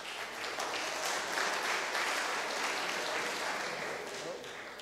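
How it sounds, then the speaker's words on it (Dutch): Steady applause from a conference audience fills the space, many hands clapping together, swelling and then fading slightly toward the end. "Graag een applaus voor Maurits Groen."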